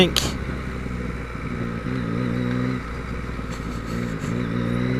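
A Yamaha MT-09 motorcycle being ridden, its engine droning steadily up close with wind rumble and slight shifts in pitch as it pulls along.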